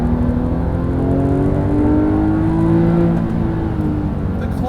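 A Porsche 997 GT3 RS 4.0 engine revs loud and close throughout a lap, its rising, sustained tone held high through the gears with small dips between shifts.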